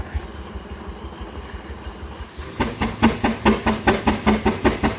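An 18hp Case portable steam engine runs at about 85 PSI, a steady low rumble giving way midway to a loud, regular chuffing exhaust beat, close and unaccompanied by talk.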